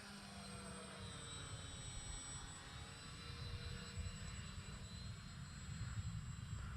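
An FMS 1400mm J-3 Cub RC model plane in flight, a steady distant faint engine drone that holds level through the whole stretch, with outdoor air in the background.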